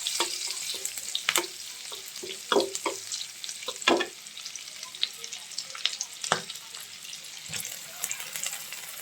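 Kalai saag greens with chopped green chillies frying in a pan, a soft continuous sizzle broken by irregular clinks and scrapes of stirring, fairly quiet and without talk.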